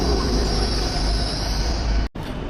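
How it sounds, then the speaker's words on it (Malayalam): A train stands at a railway station on a cold morning during a family trip in Scotland, with a loud, steady rumble and hiss of rolling stock, a faint high whine, and a brief cut near the end. "അപ്പോൾ അതേ നമ്മളുടെ ട്രെയിൻ ഇവിടെ വന്നിട്ടുണ്ട്"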